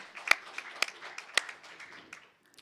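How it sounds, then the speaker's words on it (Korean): A few sharp, separate claps ring out at a church New Year thanksgiving service, spaced about half a second apart, then fade into faint scattered patter. "우리 그분들을 위해서도 박수로서 인사를 대신하겠습니다"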